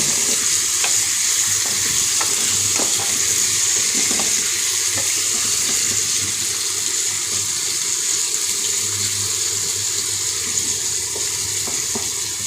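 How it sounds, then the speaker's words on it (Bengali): Pumpkin pieces and onion frying in a pan with salt and turmeric, a loud, continuous sizzle with intermittent stirring scrapes and clicks throughout. "চলো কুমড়ো এরকম করে ভাজতে থাকি"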